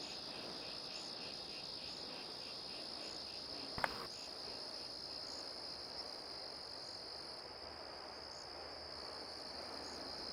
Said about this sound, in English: This is a dark woods. Oh, I hear cicadas.